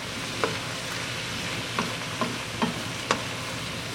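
Onions for French onion and potato soup sizzle steadily in a pot, a soft continuous frying hiss broken by a few light clicks of stirring.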